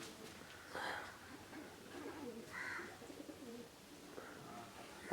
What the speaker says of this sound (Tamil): இப்போ புறாவெலாம் பார்க்கும்போது எல்லா புறாவுமே தெளிவாக தான் இருக்குது